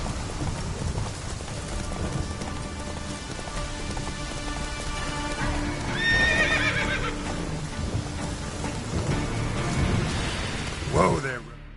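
Roach, the horse in the video game Witcher 3, runs with a steady clatter of hooves over a wash of rain, and a neigh breaks through near the end.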